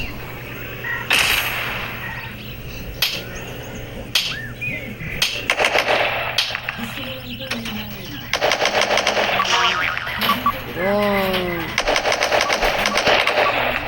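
Rapid bursts of video game gunfire, loud and close, broken by pauses and mixed with other game effects.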